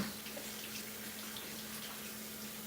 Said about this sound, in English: let me wash the brush